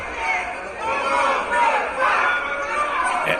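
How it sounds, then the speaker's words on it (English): A large crowd of protesters in Paris, heard as a played recording: a dense, continuous roar of many voices chanting and shouting at steady loudness, with no single voice standing out. "Huge crowds in Paris, protests against France getting involved in Ukraine."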